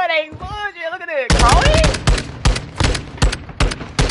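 Rapid bursts of Taq-56 rifle fire in Modern Warfare II, loud and close, crackling in short repeated volleys after a brief stretch of someone talking.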